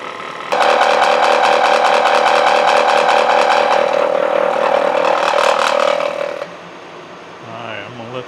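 Milling machine cutter running across a cast-iron straight edge casting, a loud steady metallic whine and rattle with a sustained tone that stops abruptly near the end, leaving quieter workshop hum.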